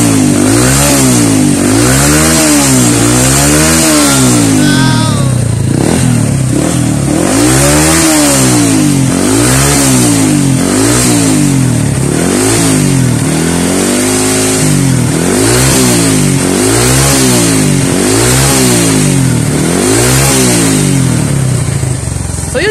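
Kawasaki Fury 125 motorcycle engine running and revving up and down repeatedly, a loud, close, steady series of rising and falling throttle blips with no talking.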